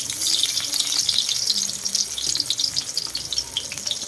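Pork for binagoongan fries in a pan until golden brown, giving a continuous, close, bright crackling sizzle with small spatters. The sizzle stays steady for the full few seconds and no voices are heard.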